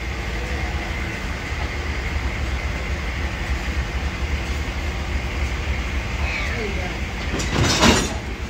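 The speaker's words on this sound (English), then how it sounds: "the other train is getting much closer and getting ready to hook up to our train" An Amtrak train slowly approaching to couple with another train on a damp, rainy morning, a continuous low rumble and rolling rail noise with a rising squeal and clatter near the end.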